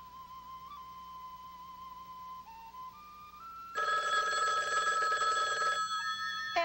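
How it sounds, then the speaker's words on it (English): A telephone rings with a steady electronic trill for about two seconds, clear and fairly loud over a sustained tone and low room hum, with no talking. "if it was meant to happen, the phone wouldn't be ringing."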